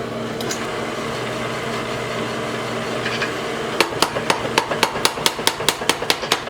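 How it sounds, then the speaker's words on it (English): A power hammer fitted with fullering dies forges a mass of hot metal into an axe, starting with a steady mechanical hum, then a quick run of a dozen sharp, evenly spaced blows ringing out loud and close. "The power hammer will draw out the mass of metal to form our axe."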